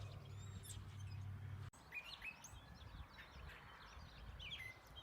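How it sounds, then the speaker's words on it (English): Birds chirp and tweet outdoors in several overlapping calls, moderately near, over a steady low hum that drops out about a third of the way through. "Listen to all the birds."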